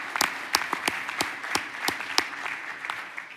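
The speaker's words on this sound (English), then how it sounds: "We could just get a round of applause for that." Audience applause at a telecom industry panel discussion, a short burst of scattered clapping from a modest crowd with distinct individual claps, fairly close and steady throughout.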